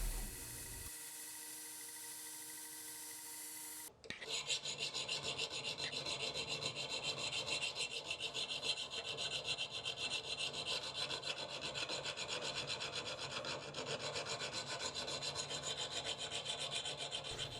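Steady continuous rasping of a file being draw-filed along false bevels on a hidden tang knife blade, a dense gritty scrape starting abruptly after a short lull and running on evenly, close up.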